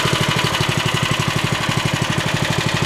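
A Sand Man machine's small engine, started with a ripcord, runs loud and close at a steady idle, with a fast, even chugging pulse that goes on throughout and no voices over it.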